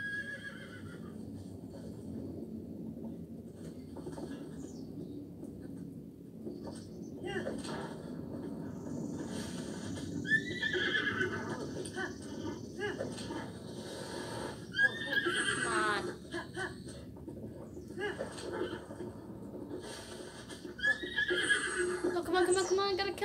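Several horse whinnies in The Legend of Zelda: Breath of the Wild rise and fall over a constant low rumble of hooves and background game noise, arriving at irregular intervals and growing louder toward the end.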